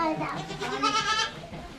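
Up close, a newborn goat kid bleats in a wavering, high-pitched cry that lasts a couple of seconds.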